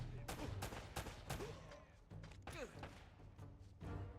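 Gunfire from a fixed-barrel weapon in Uncharted: Drake's Fortune: sharp, loud shots crack in quick, irregular bursts over a steady low rumble, with a voice faintly under them.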